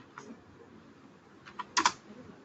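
Quiet keystrokes on a computer keyboard, a few faint taps followed by a brief louder cluster of clicks near the end, in a still room.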